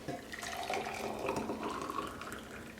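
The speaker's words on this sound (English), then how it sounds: "And pour it into our jar here." Hot dissolved crystal-growing solution pours steadily into a jar, a continuous soft watery trickle and splash lasting a few seconds with no talking.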